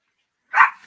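A single sharp dog bark, close and fairly loud, with a short fading tail and no other sound around it.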